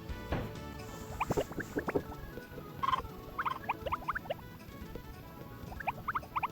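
Chickens cluck and peck inside a coop in the Harvest Moon farming video game, with soft scattered chirps and pecking taps over a steady low background hum, no talking.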